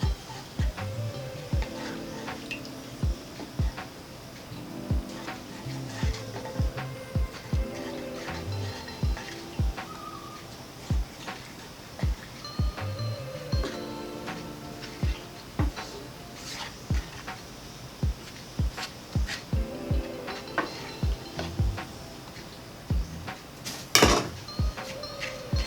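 Rice flour and tapioca flour are mixed in a bowl with repeated sharp taps and scrapes of a utensil against the side, recurring in irregular bursts of several strokes each, close and fairly quiet.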